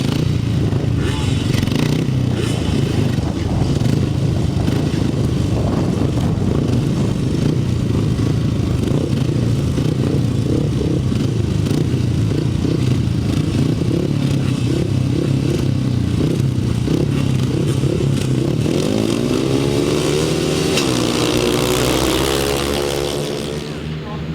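500cc grasstrack motorcycles race in a heat at a Winchester meeting, their engines a loud, continuous rasping roar that holds steady and rises as the pack passes, then fades slightly at the end. An announcer's voice runs underneath.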